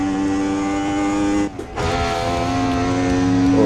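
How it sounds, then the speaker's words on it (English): A 1979 Formula One race car engine screams at high revs at the Österreichring in Assetto Corsa, loud and steady, with a brief dip around a gear change before the drone resumes. "There's Nelson Piquet behind me in the Brabham"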